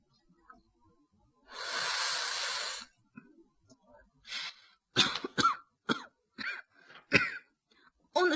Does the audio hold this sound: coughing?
yes